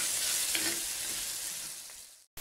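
Shallots, green chilies, salt and turmeric sauté in a hot pan for idli sambar, a steady broadband sizzle with a brief scrape near the start, cutting off abruptly at the end.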